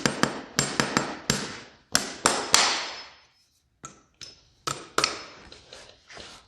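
Sharp hammer blows drive nails into a horseshoe on a horse's hoof, coming in quick bursts of two or three ringing metallic taps, then a short pause and another irregular run, close and clear with no talk.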